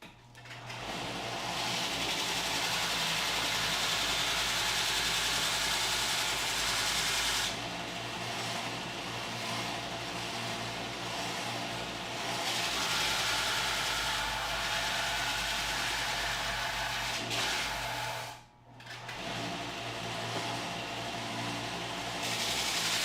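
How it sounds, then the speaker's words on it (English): Steady, loud power-sander whir as a box is sanded in a leather workshop, running continuously for about twenty seconds with a single brief cutoff near the end. "I'm just going to sand this real quick."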